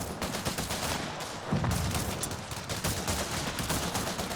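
Mortars firing on enemy troops in Company of Heroes 3 amid a battle: continuous crackling small-arms fire with a deeper thump partway through, all fairly loud and dense.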